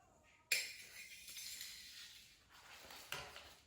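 A ladle digs into a pile of coins and money, giving a sharp metallic clink and jingle, then a softer rustling scrape, and a second lighter clink near the end; quiet and close, with no talk.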